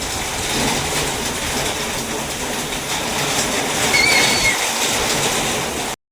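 Heavy rain and storm-force wind hammer on tin roof sheets, a dense, loud, continuous roar close overhead with a brief thin whistle partway through.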